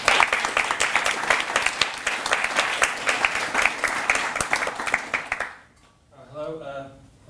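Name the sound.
audience applause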